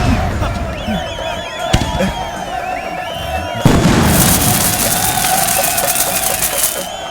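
Fireworks burst during a village scene in a Malayalam film, with sharp isolated booms followed by a loud, sustained stretch of crackling pops over crowd noise and voices.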